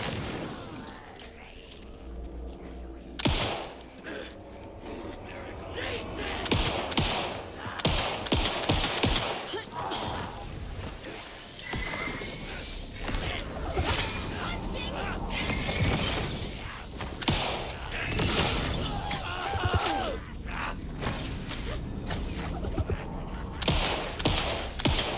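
Gunfire in the video game Alan Wake II, with dense, repeated shots and shattering impacts crackling through a long stretch of loud, busy combat, no talk heard.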